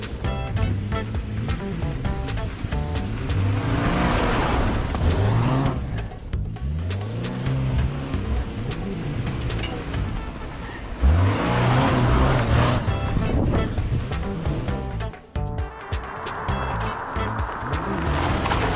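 A Subaru Forester Wilderness spins on desert dirt, its engine revving loudly and continuously, rising and falling in swells as the tires churn over the loose ground.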